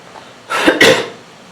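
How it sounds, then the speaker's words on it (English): A person indoors gives two quick, close coughs in succession, short harsh bursts rising out of near silence and fading into a brief breathy tail. "Sorry, I'm coughing."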